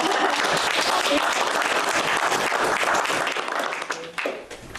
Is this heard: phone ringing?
no